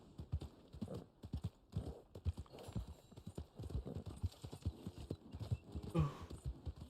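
Horse hooves clip-clopping in the video game Red Dead Online, a steady rhythmic trot of hoofbeats at moderate distance, with a brief snort or whinny near the end and no talking over it.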